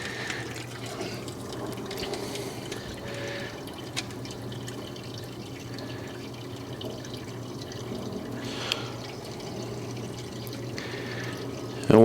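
A submersible pump drains water from a garage floor catch basin out through a hose to a side yard, giving a continuous soft gurgling, trickling flow with faint drips and a low steady hum.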